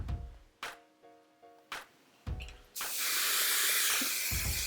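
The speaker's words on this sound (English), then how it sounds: "Use your hairspray." Hairspray sprayed onto loose curls in short hair: a few short close thumps and clicks, then a steady hissing spray that lasts for about two seconds.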